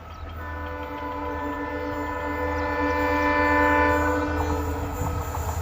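A WDG4D EMD diesel locomotive passes while sounding its horn, a loud sustained multi-tone blare over the rumbling engine and wheel noise that swells as it nears, with no talking.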